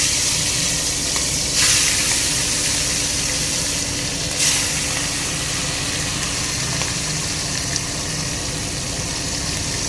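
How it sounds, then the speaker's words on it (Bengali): Garlic chicken pieces fry in a pan with a loud, steady sizzle up close, broken by a couple of brief hissing flare-ups and light scraping. "বাকি থাকা পিসগুলোকে এইভাবে ভেজে নিচ্ছি"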